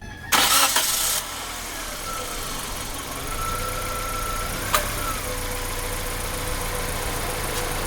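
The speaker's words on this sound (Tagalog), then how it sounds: "Ngayon, papanda rin ko lang yung makina." A Nissan Sentra engine cranks and catches with a short loud burst, then settles into a steady, even idle that runs on with a faint whine and one small click.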